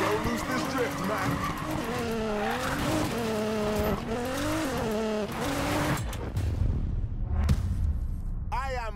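Car drifting in the Need for Speed Payback video game, with a wavering engine whine and sustained tire squeal for several seconds, then rougher skidding noise and clatter, with a voice talking over it.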